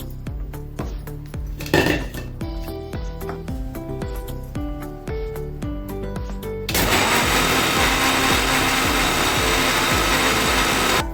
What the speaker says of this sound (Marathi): हे आता आपण मिक्सरला लावून घ्या।